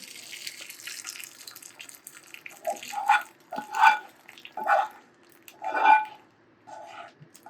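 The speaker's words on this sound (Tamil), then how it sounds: "இந்த சமயத்தில் இறக்கி நம்ம வடிகட்டிக்கலாம்" Melted jaggery syrup for poorana kozhukattai is poured through a strainer, coming in four or five short liquid splashing pours with quiet gaps between them, close and clear.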